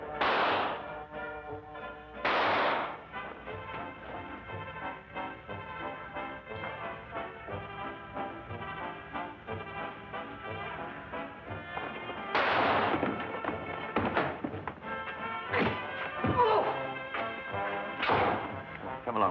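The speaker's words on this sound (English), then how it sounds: "Fire it, Holmes. Fire it" Sharp, loud gunshot bangs go off in a tense radio-drama scene: a few separate blasts spaced over several seconds, with a cluster near the end and dialogue and music in between.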